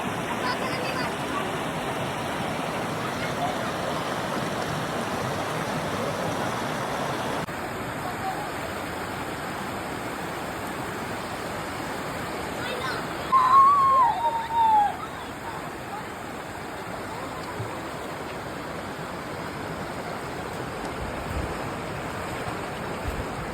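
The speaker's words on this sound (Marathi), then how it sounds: "पाऊस पडायला लागला" Monsoon drizzle falls in the Konkan countryside as a soft, even hiss throughout, with a voice speaking briefly partway through over the steady rain.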